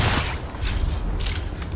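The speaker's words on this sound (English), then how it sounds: "Wasn't sure shooting him in the leg was quite gonna cut it" A gunshot from the video game Dune Awakening, a short burst of sharp booming reports with reverberant tails against a rumbling game soundscape, no speech.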